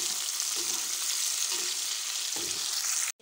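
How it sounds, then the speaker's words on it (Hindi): Macaroni frying in a pan gives a loud, continuous crackling sizzle up close, with soft stirring bumps under it, before it cuts off abruptly. "ये देखिए मैं फ्राई कर रही हूँ"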